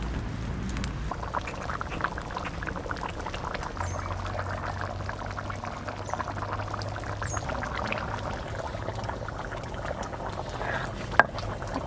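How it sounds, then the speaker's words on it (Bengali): Water pours steadily into a pan of Baush fish curry, a sustained splashing gurgle lasting around twelve seconds, close and moderately loud. "এবার জল দিয়ে দিচ্ছি"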